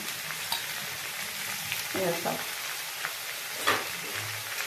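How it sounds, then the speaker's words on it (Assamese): Onions frying in a pan make a constant close sizzle with occasional stirring scrapes, and a voice speaks briefly over it. "পিঁয়াজখিনি ইয়াতে দি দিলোঁ। এইখিনি মই ইয়াতে ভাজিম।"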